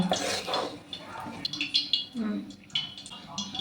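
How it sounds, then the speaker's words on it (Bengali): Semolina and flour batter for malpua being mixed with a little water in a bowl: wet clinking and scraping of a utensil against the dish, close and uneven, with a faint voice underneath. "আমি অল্প একটু জল দেব, দিয়ে আবারও মিশিয়ে নেব"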